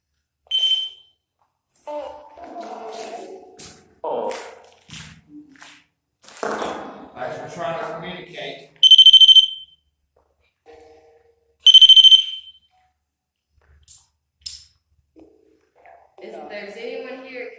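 An electronic device gives two loud, sharp smoke-alarm-style beeps, each about half a second, a few seconds apart, inside a furnace room during a ghost hunt, between stretches of nearby talking.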